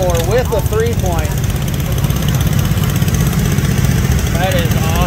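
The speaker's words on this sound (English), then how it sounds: "Case lawnmower with a 3-point." A Case lawn tractor fitted with a three-point hitch runs at an antique tractor show, its engine a steady loud drone under people talking.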